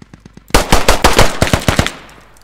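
Loud, close automatic gunfire in the military shooter game Squad, a few light clicks followed by a rapid burst of sharp, closely spaced shots that rings out and fades into a short echoing tail.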